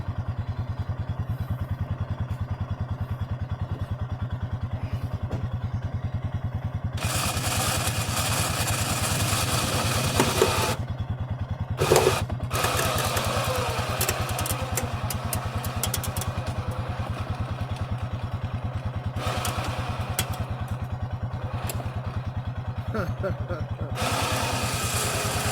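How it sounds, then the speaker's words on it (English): A vehicle engine revs and strains while dragging a 1969 Mustang through mud, a low steady rumble swelling into louder roaring pushes with occasional thumps and clatter. "So we're actually dragging the Mustang through the mud."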